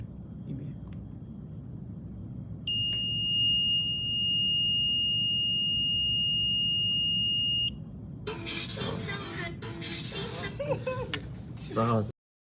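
Buzzer alarm of an FPGA-based infant monitor gives one steady, piercing electronic tone held for about five seconds, loud and clear over faint background noise, followed by rustling handling sounds.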